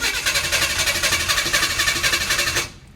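The engine of an abandoned 1968 Chevrolet Impala cranks loudly and close by in a steady rhythmic chug without catching, then cuts off abruptly near the end.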